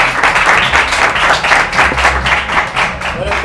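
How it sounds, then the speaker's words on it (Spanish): Audience applause after a talk on practical wisdom and literature: steady, dense clapping from a room of listeners, fairly loud and continuous for the whole stretch. "Aplauso."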